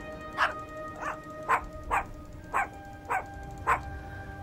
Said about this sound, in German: Lass mal den Hund mal eine Runde bölken